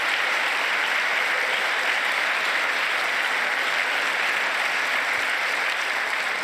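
Dense, sustained applause from a large chamber crowd at a presidential State of the Union address, a continuous even roar of clapping without breaks.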